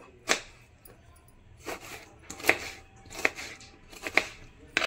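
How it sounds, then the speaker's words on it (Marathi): A knife chopping a tomato into small pieces, roughly six distinct, fairly faint cuts at an irregular pace against a quiet background. "हे टमाटर कापून घेऊया। याप्रमाणे छोटं छोटं असं कापून घ्यायचं।"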